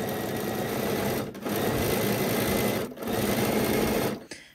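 A sewing machine slowly stitching a seam on a garment, running in a steady close-up whir with two brief stops before it halts at the end, no voices over it.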